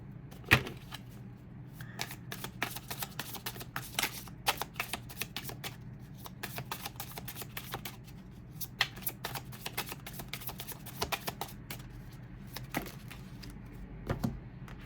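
Tarot cards being shuffled by hand, a long run of crisp riffling and slapping clicks, close and steady with scattered louder snaps, no talk.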